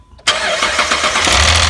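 The 4.7 engine of a Dodge Ram cranks and catches abruptly, then runs up into a loud, close, steady idle. A faint rhythmic ticking from a suspect belt tensioner sits within the engine noise.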